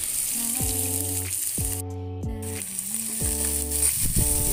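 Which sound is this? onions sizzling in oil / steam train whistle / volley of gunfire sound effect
onions sizzling in oil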